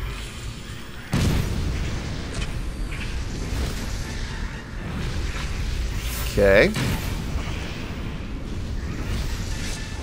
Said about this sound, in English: Kill 50 ghouls with explosions.